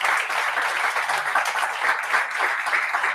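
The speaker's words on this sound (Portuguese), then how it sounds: "Dê um aplauso ao Senhor Jesus, aleluia." Congregation in a church applauding, dense steady clapping from many hands filling the whole short stretch at moderate level, with no talk over it.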